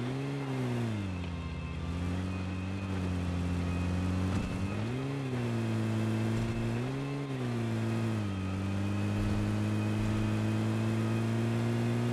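Buggy engine in the BGMI battle royale game, a steady droning motor whose pitch rises and falls in repeated revs as it drives, continuous and close with no talk.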